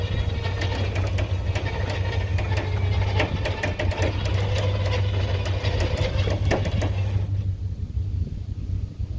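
A lawn mower engine runs steadily at a loud, even idle close by, with a constant hum and rattle before it drops away abruptly near the end.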